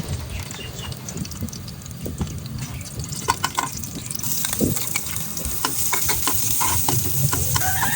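Chopped garlic fries in ghee in a pan at home, giving a steady, close sizzle with crackles and scattered pops that grows busier over the clip, with no talking.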